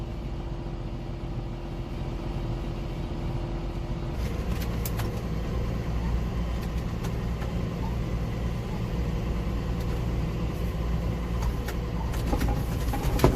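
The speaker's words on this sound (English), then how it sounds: "That's 7610 two-wheel drive tractor." A 7610 two-wheel-drive farm tractor engine idles at a distance, a faint, steady low drone with a few light clicks and knocks over it.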